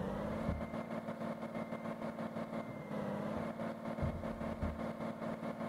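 A truck engine in Truck Simulator: Ultimate drones steadily and close, a heavy continuous hum with the throttle held down and a few small bumps and shifts along the way.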